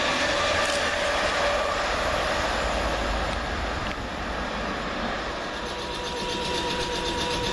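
Passenger trains rush through Surbiton station without stopping, a loud, steady roar and rattle of wheels on track, continuous throughout with no voices.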